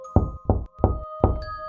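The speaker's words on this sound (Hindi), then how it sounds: "दरवाजा खटखटाने की आवाज सुनाई दी।" Four firm knocks on a door, evenly spaced and close, with a faint steady ringing tone behind them and no voices.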